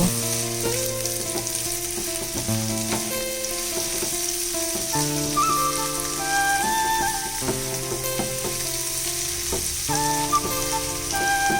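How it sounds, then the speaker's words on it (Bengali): Spices, chopped tomato and ginger sautéing in a pan for a jackfruit-seed and prawn curry: a steady, continuous sizzle with background music playing throughout. "এবারে সব মশলাগুলো ভালো করে আমি কষিয়ে নেব।"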